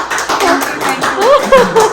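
A small child claps hands at a family party, a handful of light, uneven claps heard close by while people talk over them.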